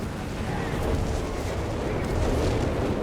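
A Flak 30 anti-aircraft gun fires in Company of Heroes 3, with a dense, muffled run of rapid shots blending into constant battlefield rumble, at moderate distance, with occasional faint speech.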